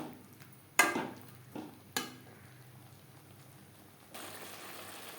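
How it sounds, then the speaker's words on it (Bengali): A spoon scrapes and knocks in a pan while coconut paste and vegetables are stirred over high to medium flame, three distinct clatters followed by a soft, steady wet sizzle. "হাই টু মিডিয়াম ফ্লেমে দু তিন মিনিট নাড়াচাড়া করে নেবো"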